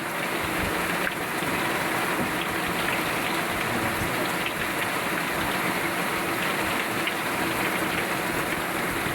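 Heavy rain pours steadily at sea at night in a dense, constant hiss, with a low rumble underneath, loud and unbroken throughout.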